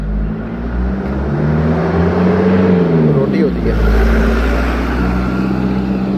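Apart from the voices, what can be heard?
traffic noise of passing cars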